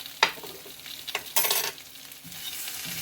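Potatoes seasoned with turmeric and ground coriander are stirred in a frying pan, producing a few short scraping strokes and a quick rattling burst over a soft, continuous sizzle.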